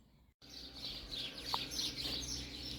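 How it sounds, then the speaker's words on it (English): Small birds singing in a spring garden: a steady chorus of bright, high chirps and twitters at moderate distance, with one clearer call standing out midway after a brief dropout at the start. "Bird song."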